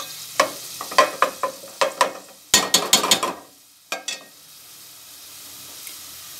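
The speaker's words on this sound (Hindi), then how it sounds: "अदरक लहसुन के साथ मैं मिक्सअप करूँगी इस कीमे को" Minced meat (keema) with ginger and garlic being stirred in a pan, a run of sharp scraping and clattering strokes in quick bursts over a soft sizzle, close and fairly loud, with no one talking.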